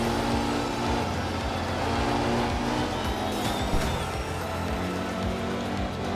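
Rally car in the racing game Art of Rally, a steady loud engine drone with gravel and tire noise running throughout, no voices.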